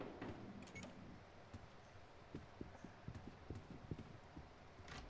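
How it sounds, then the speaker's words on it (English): Footsteps in a Roblox video game come as a series of faint, evenly spaced thuds under a quiet hiss, with a few scattered clicks. "There's footsteps."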